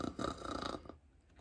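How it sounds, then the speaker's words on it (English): A single snore in a children's robot story, a short, rough, throaty rasp that fades out after about a second, close and alone. "One of them is snoring."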